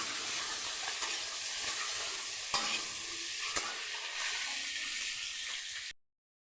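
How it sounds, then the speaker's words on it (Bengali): Eggs fry in a pan with a dense, steady sizzle close up, broken by a few clicking stirs and scrapes, then it cuts off abruptly. "এটাকে আমি সব ডিমগুলো ভেজে নেব।"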